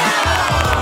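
A short burst of crowd cheering and clapping, bright and loud, filling the whole moment.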